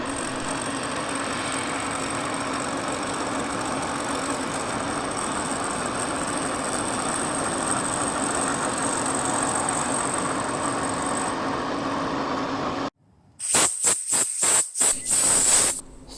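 A milling machine hums steadily while cutting a shallow dovetail in a mini lathe part, then the motor stops abruptly and a few sharp clicks follow in the quiet.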